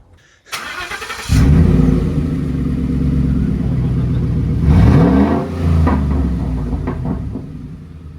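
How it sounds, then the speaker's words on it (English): A Ford F-150 with a 5.0 engine and an MBRP cat-back exhaust starts up and settles into a loud, deep idle. It then takes a sharp rev that climbs and falls away before it idles again, heard close. "Give her a rev once."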